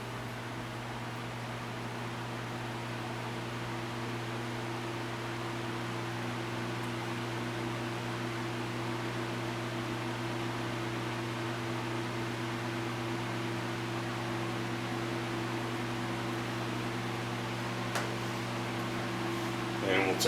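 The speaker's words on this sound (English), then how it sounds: "Take it up to medium. This fan uses a Fast-Go style motor." A Lakewood 1500A 15-inch table fan with a Fast-Go style motor runs at medium speed, giving a steady close motor hum with layered tones under a constant airy whoosh that holds unchanged throughout.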